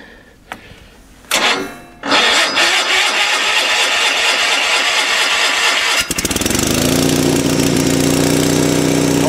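A Sears SS16 garden tractor engine cranks on a cold winter start: rapid, rhythmic starter chugging that gives way to a loud, steady mechanical roar, close by with no talking.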